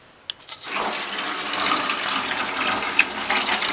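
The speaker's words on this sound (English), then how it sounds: "I'm just running hot water in our sink in the kitchen" Hot water running from a kitchen faucet into a sink, starting with a couple of clicks and then a steady, close splashing hiss that continues without talk.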